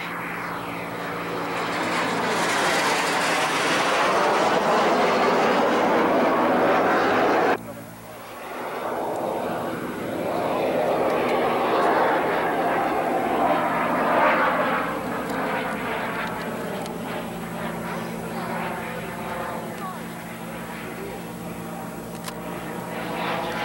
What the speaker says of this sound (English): Captain Mike Brundage in his BD-5 Microjet, the world's smallest jet aircraft.